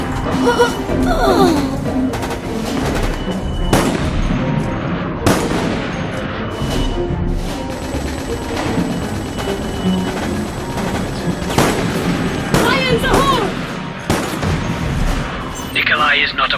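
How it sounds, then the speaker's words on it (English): Grenade explosions and gunfire in the video game Resident Evil: Operation Raccoon City, heard as loud booms and rapid shots mixed with shouting voices and game effects throughout. "Grenade! Grenade!"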